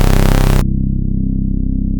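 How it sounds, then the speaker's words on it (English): A bright, buzzy synth tone from the Vital synthesizer abruptly turns dull and muffled as a high-cut filter removes the highs, leaving a steady, darker drone. "This is a high cut filter, but you'll notice it doesn't have any movement"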